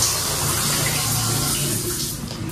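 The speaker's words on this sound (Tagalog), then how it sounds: "Ayan, kita niyo po yung tubig. Ayan, gumagana na din." Water from a bathroom shower runs in a steady, close, broadband rush with a constant level, no voices over it.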